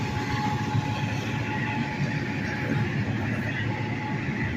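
Heavy freight locomotives labour up a long hill, hauling loaded salt hoppers and boxcars. A loud, steady mechanical rumble and roar carries throughout with no voices.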